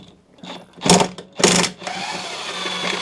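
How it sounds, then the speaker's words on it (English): Half-inch impact gun breaking loose the blade bolt on a Hayter mower, two loud close bursts of hammering rattle about half a second apart, followed by a quieter mechanical hiss. "the best way I find to do it is to get your impact gun"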